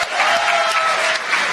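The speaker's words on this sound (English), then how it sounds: "So a round of applause for Kathy Westlock" Audience applause at a convention panel, a dense steady burst of clapping from the crowd that carries evenly through the whole short stretch.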